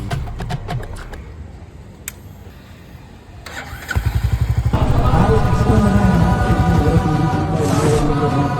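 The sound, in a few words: motorbike engine starting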